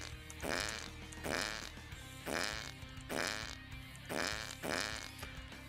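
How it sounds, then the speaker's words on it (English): A cartoonish fart effect marks a character releasing a toxic gas cloud in a space mining game built in Godot. Six loud, evenly spaced bursts sound alone, with no talking. "Just farts a toxic gas cloud out."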